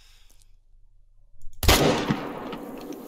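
A hunting rifle shot in the video game theHunter: Call of the Wild comes as one loud, sudden blast after near silence, then a long rumbling tail that fades slowly.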